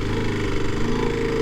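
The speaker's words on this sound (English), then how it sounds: "someone is mowing the lawn between all of them and doing a good job" A lawn mower mows a lawn in a small Canadian town, its engine droning steadily and fairly loud for a brief stretch with no talk.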